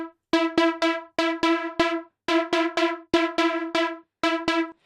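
A harsh, heavily detuned saw-style synthesizer for Afro House plays short, bright, buzzy stabs in a syncopated rhythm, close and loud with nothing else underneath.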